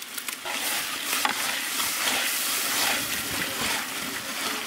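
Ground ginger paste hits a hot pan of oil for prawn biryani, with a steady sizzle and hiss plus a few stirring scrapes throughout, close and unbroken.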